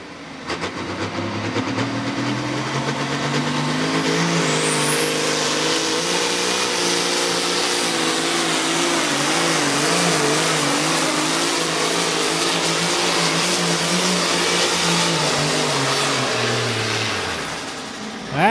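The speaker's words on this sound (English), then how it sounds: "That's exactly what Brian needed out of a new tractor" A pulling tractor engine roars at full revs during a Friday night combo-class tractor pull, a loud, close, sustained drone that builds over the first seconds, holds steady, and fades off at the end.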